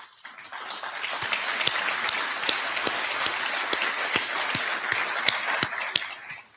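An audience at a city address bursts into sustained applause, a dense steady wash of many hands clapping that fades at the end.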